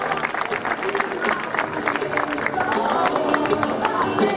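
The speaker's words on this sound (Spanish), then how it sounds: "Un fuerte aplauso" Audience at a 1970s wedding-dress fashion parade applauds, continuous clapping from a crowd with a voice speaking over part of it.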